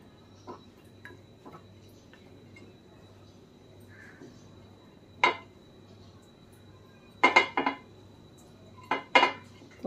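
A hot appe pan on a gas stove gets oiled, giving sharp metallic clinks and taps, scattered singly and then in quick clusters near the end, over a quiet low hum.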